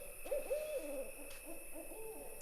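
Hooting owl calls sound in a Georgia swamp during a turkey hunt, a few soft, wavering hoots in a short series, faint and distant over a hissing background of insects.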